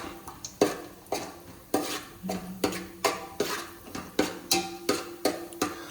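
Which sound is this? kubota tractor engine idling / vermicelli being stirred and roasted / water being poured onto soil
vermicelli being stirred and roasted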